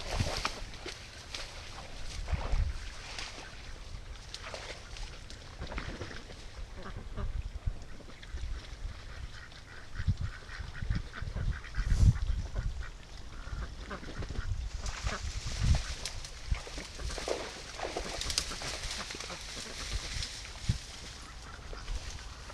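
Ducks quack and flap as a dog flushes them out of bulrushes toward a lake, the calls scattered and fairly distant amid rustling, footsteps and outdoor noise.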